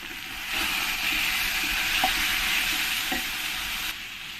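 Mankochu (taro) frying as turmeric and salt are stirred in, giving a steady close sizzle with a couple of light utensil knocks against the pan.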